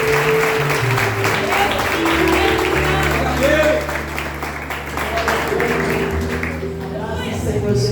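A church congregation applauds during a tenth-anniversary service, steady clapping blending with music and a voice over the whole stretch.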